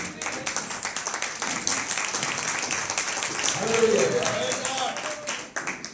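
A church congregation claps in praise during a worship service, with steady, moderately loud applause mixed with a voice speaking over it.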